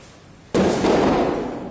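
After a moment of quiet, a sudden loud blast bursts out and trails into a sustained crackling roar.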